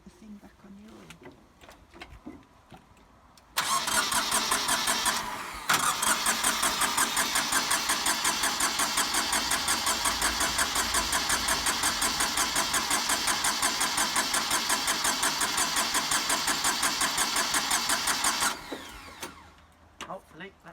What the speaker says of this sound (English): Hopefully that should have got the air out the system.